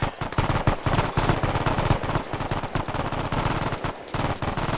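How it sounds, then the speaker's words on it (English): Sustained machine gun fire in an Arma 3 battle, dense rapid bursts of gunshots crackling close and loud with brief gaps between strings. "Machine gun fire comes down"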